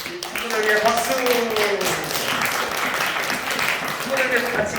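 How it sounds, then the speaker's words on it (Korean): Friends are applauded at a youth church service: steady hand clapping from a group, continuous and moderately loud for several seconds, while voices sound over it. "자, 우리 친구들 위해 박수!"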